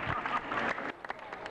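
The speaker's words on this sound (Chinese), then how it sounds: "圆山饭店大厅一片掌声" Applause fills the lobby of the Grand Hotel in Taipei as police celebrate the end of a five-day security operation, a dense steady patter of many hands under crowd murmur that thins and becomes scattered near the end.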